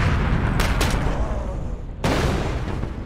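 A grenade detonates in the video game 2084, a broadband blast burst amid dense, continuous game noise and gunfire-like crackle, with a second sharp impact near the end.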